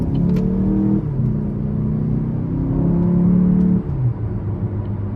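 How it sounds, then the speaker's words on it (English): A 2015 Chevy Malibu LT engine pulling hard under throttle from inside the car, a loud steady droning rise that drops briefly as a gear changes and then climbs again. "We'll give it some throttle here."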